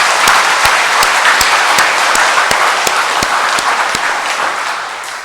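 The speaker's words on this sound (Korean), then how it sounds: "자, 이분들에게 우리 격려의 박수를 보내겠습니다" Steady applause from a church congregation during a Corpus Christi feast Mass homily, dense clapping with some sharper individual claps, holding evenly for about five seconds before tapering slightly at the end.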